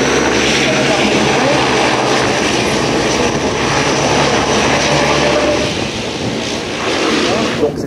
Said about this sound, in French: Allez, là, c'est un reverse.